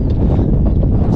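A strong gust on a steep, exposed mountain trail along the Hardrock 100 course roars and buffets the microphone in a brief, loud, continuous burst.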